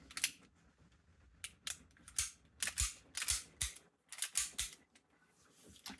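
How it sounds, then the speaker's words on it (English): Parts click and clack together as a slide stop is fitted into a Tokyo Marui/Guarder V10 airsoft pistol. The small plastic and metal snaps come in irregular close bursts with brief quiet gaps and no voice. "Slide stop goes in."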